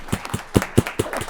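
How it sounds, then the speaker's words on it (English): A few people in an audience clapping at a city State of the City event: a short run of evenly spaced, crisp hand claps, fairly close and distinct, with no talking. "well, we'll have an applause"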